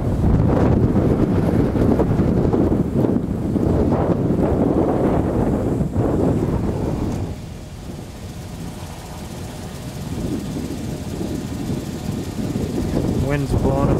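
Strong wind roars across an open high school parking lot during a Michigan blizzard, gusting around 25-30 mph; loud, steady buffeting that eases slightly midway before building again, with no talk.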